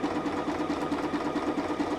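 Sewing machine running a zigzag stitch while sewing a sunflower fabric pouch, a fast steady mechanical chatter with an even rhythmic pulse, close and continuous.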